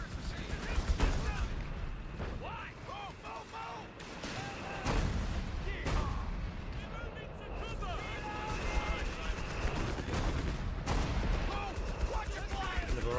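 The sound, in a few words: artillery barrage bombardment in the video game Company of Heroes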